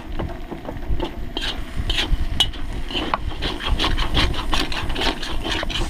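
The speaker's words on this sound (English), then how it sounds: "Scrape that nice fond off the bottom." Caramelized fond is scraped off the bottom of a cooking pot at a campsite with a utensil, giving repeated close scratchy scraping strokes over a low sizzling rumble.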